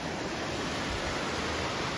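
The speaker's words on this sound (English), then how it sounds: "This is Carson Creek." Carson Creek rushes steadily along a mountain trail, a dense, even wash of flowing water heard from a bridge, loud and continuous with no voices.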